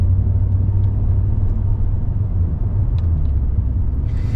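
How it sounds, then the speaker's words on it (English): A supercharged Mercedes SL55 AMG engine gives a deep, steady rumble, loud and close, holding an even note throughout with no voices. "the sound of this SL55 AMG compressor is superb."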